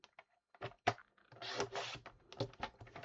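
Cardstock being trimmed on a paper trimmer while making a scrapbook page: a few light taps and clicks, then a longer scraping slide of the cutter, then more small clicks, close and fairly clear.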